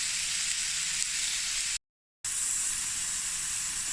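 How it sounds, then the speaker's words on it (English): A knob of butter sizzles steadily in a hot pan, a dense, even hiss that is briefly cut off by a moment of silence before carrying on at the same level. "I'm also going to add a knob of butter. Let this fry down a bit."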